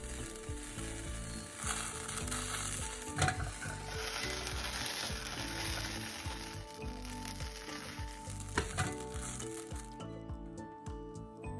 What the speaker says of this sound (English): We're going to flame it just a little bit, let it go out.